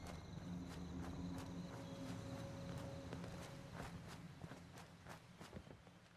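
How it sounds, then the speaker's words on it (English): Footsteps in the Fallout 76 video game, crossing a forest near a manor: a steady run of quiet, even steps over a constant ambient hum, with no talking. "I hear footsteps."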